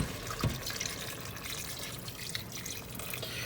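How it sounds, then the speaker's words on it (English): Plain water pours into a pot of Japanese curry being cooked at home. It makes a steady rushing, splashing wash for a few seconds, and no one speaks. "I'll just add some plain water in here."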